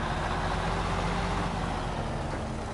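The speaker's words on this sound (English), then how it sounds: "that engine sounds pretty cool. I like the sound of it." An F-Word C500 truck in the video game SnowRunner, set in British Columbia, its engine rumbling in a steady, low, moderately faint drone with no clear revving, no voices.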